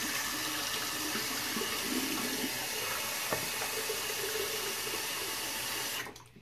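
Hot water pours steadily into a shaving bowl in a continuous, even splashing stream that cuts off abruptly near the end, with no one speaking.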